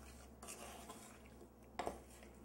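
A spoon stirs peach cobbler mixture in a bowl, making faint scraping and light clinks against the sides, with a slightly louder knock near the end in a quiet kitchen.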